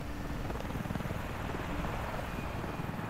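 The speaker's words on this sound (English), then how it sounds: "Hello, Chopper, my old friend." Helicopter in the shooter Wolfenstein: The New Order, a steady, dense rotor-and-engine roar that holds at constant loudness throughout, close and filling the whole sound with no one talking.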